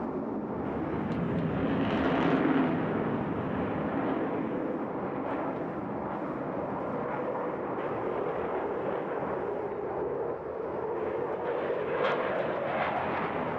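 A military jet flies over the Bournemouth Air Festival in a standard squadron aircraft, its engine a broad, continuous roar that swells and holds loud and steady for the whole stretch, with no voices.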